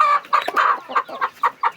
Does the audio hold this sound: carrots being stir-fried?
no